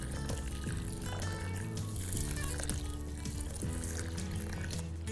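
Water pouring steadily onto urad dal in a bowl, rinsing the lentils, a continuous close wash of liquid under a faint musical backdrop, with no pauses.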